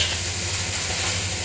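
Chinese Yangzhou fried rice sizzling in a hot wok, a loud, steady hiss of frying with a low hum beneath it and no talking.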